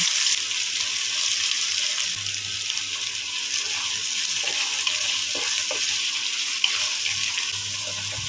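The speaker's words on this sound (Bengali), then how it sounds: "এর মধ্যে প্রথমে পেঁয়াজ ঢেলে দিচ্ছি।" A loud, continuous sizzle of onions frying in hot oil, steady and close, with faint stirring and no voices.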